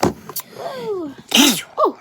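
A man sneezes sharply, then again moments later, close and loud, with a woman's brief exclamations in between during a casual haircut session at home.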